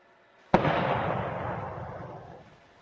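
A single sudden loud boom sounds in a residential neighbourhood, a sharp blast followed by a long rumbling decay that fades over about two seconds, with no voices.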